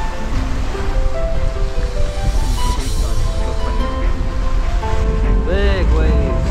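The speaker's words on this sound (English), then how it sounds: "Big waves, some of them, yeah. Chasing us down." Big ocean waves rush behind a sailing boat at sea, a loud continuous wash of surf and wind buffeting the microphone, with a voice speaking over it.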